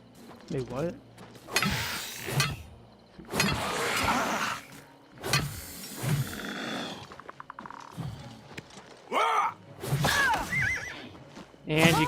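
A horse in the video game Oblivion Remastered neighs and whinnies in a few loud bursts as it is killed, mixed with combat clatter and other game effects, with someone talking over it.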